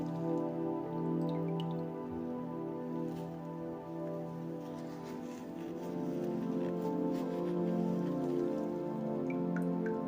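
Amla-infused oil drips and trickles as it is squeezed out of the cooked amla by hand, a faint, soft, continuous patter of drops close by, with no voices.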